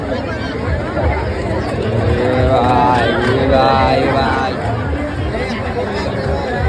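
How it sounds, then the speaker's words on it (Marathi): A thick crowd murmurs at the busy Nirmal Vasai jatra fair in Vasai, a steady babble of many voices close around, with one nearer voice speaking over it. "गाईज बघू शकता तुम्ही एवढी गर्दी आहे इथे"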